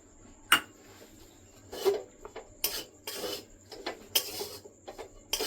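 A spoon scrapes and stirs a beetroot ladoo mixture in a pan, giving irregular rasping strokes and occasional metallic taps at a close, moderate level over a faint steady hum.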